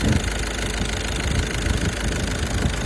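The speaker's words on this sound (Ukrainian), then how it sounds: "отак працює мотор" Volkswagen Caddy 2013 engine, 75 kW, idling with a steady, continuous mid-range rumble and faint knocking texture, loud and close throughout with no talk.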